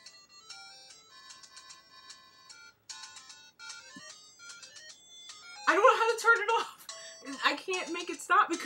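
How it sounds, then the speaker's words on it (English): A bright, tinkling electronic phone ringtone plays a repeating melody, then excited voices talk loudly over it. "There was no call, but it was ringing."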